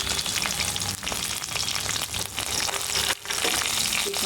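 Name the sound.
dried red chillies and spices frying while stirred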